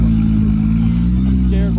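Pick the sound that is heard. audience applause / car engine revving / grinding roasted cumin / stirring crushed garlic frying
car engine revving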